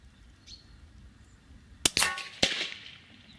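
CZ 457 rifle fired outdoors at a bamboo stake about 100 metres away: a sharp crack, then a second metallic clang-like snap moments later and another report, short and distinct over quiet ambience.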